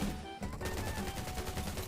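Rapid automatic gunfire rattles in quick, even bursts as a player shoots zombies in the mobile open-world survival game Undawn, heard as steady, moderately loud in-game shooting.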